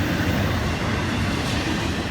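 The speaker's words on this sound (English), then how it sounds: "Here goes the end of train 101." The tail end of an FEC passenger train, train 101 bound for Miami, rolls past at Stuart, making a continuous loud rumble and rush of wheels on rail with no talk.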